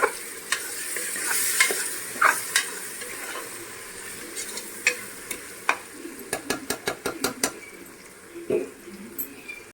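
Onions sizzle in a hot pan while a spoon scrapes and stirs them, with a steady fry underneath and a quick run of sharp clinks against the pan near the end, for a chicken curry.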